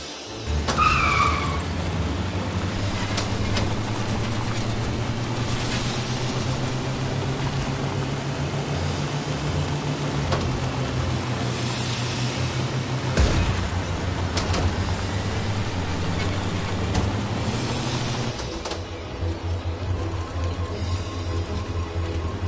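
A Tintin car races fast and leaps, with a loud, continuous engine drone and tyre noise running close for over twenty seconds, dipping slightly near the end.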